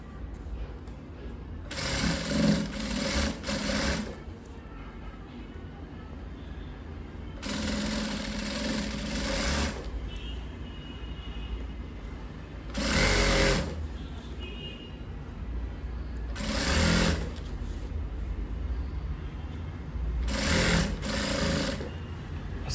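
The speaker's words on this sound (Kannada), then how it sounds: "ಈ ರೀತಿ ಫೋಲ್ಡ್ ಮಾಡಿ ಒಂದೇ ಒಂದು ಹೊಲಿಗೆ ಹಾಕೊಂಬರ್ತೀವಿ." An electric sewing machine stitching a folded lining hem for a chudi runs in five separate bursts of fast, steady whirring, each a few seconds long, with quiet pauses between and no talking.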